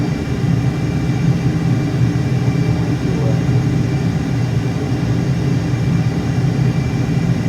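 Steady aircraft engine drone from Microsoft Flight Simulator, a loud continuous low hum holding an even level throughout with no talk over it.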